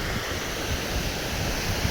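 Water pours over the overflowing Machhundri dam as a loud, steady rushing roar with wind noise. There is no talk.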